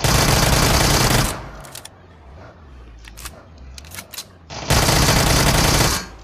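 Loud bursts of automatic gunfire in a video game, one sustained burst at the start and another near the end, with scattered single shots and voices talking in between.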